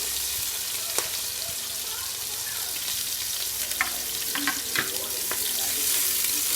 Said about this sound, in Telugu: ఇప్పుడు ఆనియన్స్ ఫ్రై చేసుకోవాలి.